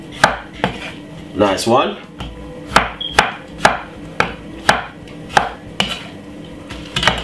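A knife chops a tomato for salad on a cutting board, about a dozen sharp, evenly spaced thwacks after a brief jumble of handling noise, close and loud; a voice speaks briefly.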